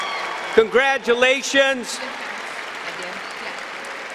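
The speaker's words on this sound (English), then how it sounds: "Let's have one final round of applause for all of our master's graduates." A commencement audience applauds master's graduates at a college ceremony, with a dense, steady wash of clapping that continues to the end after a brief spoken word of congratulations at the start.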